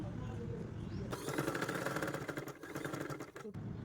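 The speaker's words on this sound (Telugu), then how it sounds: "కింది వైపున లైనింగ్ పెట్టి పై వైపున మెయిన్ క్లాత్ పెట్టి స్టిచ్ చేసుకోవాలండి" A sewing machine stitches a blouse's butta sleeve lining to the main cloth, starting after a second with a fast, rapid mechanical rattle that runs for a few seconds before stopping, close and fairly quiet.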